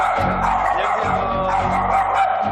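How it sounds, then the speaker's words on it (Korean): A dog barks fiercely at a visitor arriving at the home, giving rapid, agitated, loud yapping barks close by over a busy background of movement and noise. "역시나 외부인이 오자 격렬하게 짖어대는 칸초"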